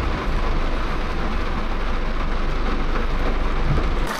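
Heavy rain falls steadily in a dense, even hiss that stays loud and continuous throughout, with no voices.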